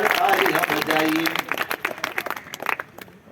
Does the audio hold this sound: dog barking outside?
no